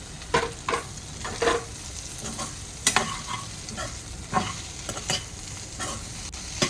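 Fried ladyfinger tossed with chicken masala in a pan, a spoon scraping and stirring in uneven bursts over a low background sizzle, close and fairly loud, with no voices.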